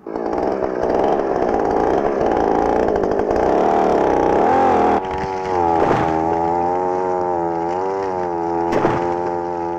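Power saw cutting through wood in a 1961 setting with a youth work commune, producing a loud buzzing engine whine that drops in pitch as the blade bites, then settles into a steady droning cut.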